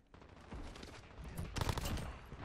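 An SMG in the Modern Warfare video game fires in short dense bursts, a rapid crackling fusillade that grows louder and heavier midway through.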